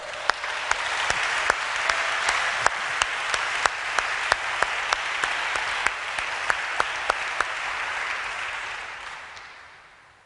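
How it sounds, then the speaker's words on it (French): A church congregation breaks into steady, loud applause in acclaim of the Lord, with sharp rhythmic claps standing out over the crowd before the clapping fades away at the end. "Acclamons le Seigneur."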